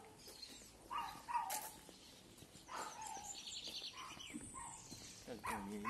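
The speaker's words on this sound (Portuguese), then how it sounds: "Pelo latido do cachorro não tem ninguém." A dog barks fearfully at a house where no one answers, sharp yelping barks at moderate distance, repeated in short bursts amid faint outdoor noise.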